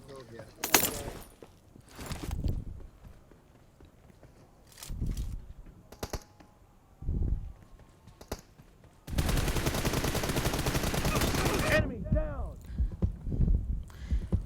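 Bursts of M416 gunfire in a team deathmatch shooting video game, with single shots early on and a long sustained rattle of rapid fire in the middle, mixed with short voice sounds.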